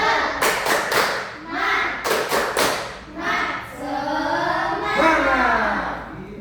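Schoolchildren in a classroom perform a rhythmic 'tepuk semangat' clapping routine: two sharp bursts of quick, loud group claps, each followed by the class chanting together in unison.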